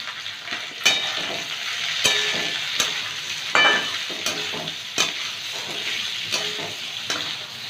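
Capsicum, peas and chopped green chili frying in a pan, a steady crackling sizzle broken by periodic scraping knocks of a spoon stirring through the vegetables, close and moderately loud.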